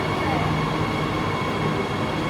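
A subway train in Lanzhou runs at speed, giving a steady, loud rumble with a constant metallic drone that holds evenly throughout, with no voices.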